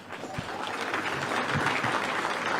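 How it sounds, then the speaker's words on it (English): A room of supporters at a sheriff's campaign announcement for governor applauds themselves, with thick, continuous clapping that builds slightly and stays strong through the short span. "let's give yourselves a round of applause."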